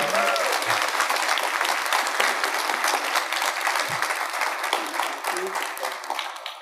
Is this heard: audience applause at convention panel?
yes